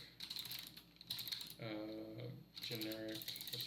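Quick bursts of clicking keystrokes on a computer keyboard, heard up close, while someone talks between and over the typing.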